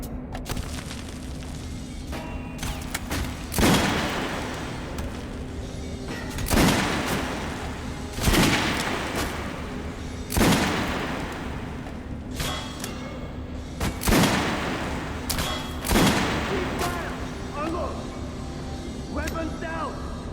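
Gunshots at a firing range in the video game Metro Last Light crack out one at a time in a slow irregular series of loud single reports, with voices talking between them.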